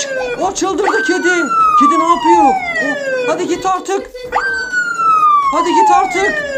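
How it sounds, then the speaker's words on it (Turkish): A police siren played loudly from a phone, rising and falling wails repeating across the whole stretch, close and dominant, while children and adults talk excitedly over it. "Çal dediğimde çalıyorsun polis sireni."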